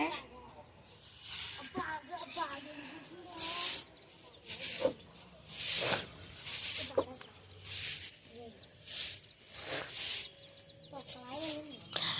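Chickens clucking around a home yard, several soft calls scattered over the whole stretch, moderately near, with people talking at intervals in between.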